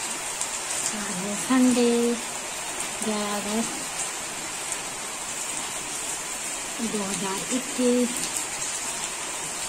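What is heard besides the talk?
rain falling near a mango tree in Uttarakhand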